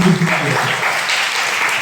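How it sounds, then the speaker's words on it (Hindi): An audience at a presentation bursts into loud, close applause that fills the moment, with a voice briefly heard at the start. "उनके लिए भी जोरदार ताली होना चाहिए"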